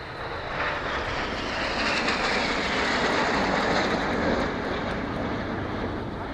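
Aerobatic display jets at the Farnborough Airshow, a synchro pair flying past upside down, make a loud, steady broadband roar that swells slightly as they pass overhead and holds for several seconds.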